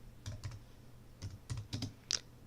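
Several quick keystrokes on a computer keyboard as a command is typed into a Mac terminal, clicking in short uneven bursts and close up, with a sharper key tap near the end.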